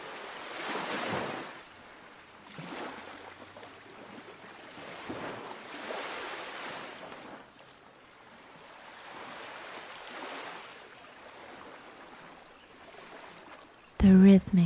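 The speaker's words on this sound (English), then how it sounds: "The rhythmic sound of the waves becomes your guide," Ocean waves roll in and wash out in slow, rhythmic swells, soft and steady, each surge rising and fading, ending in a brief louder burst.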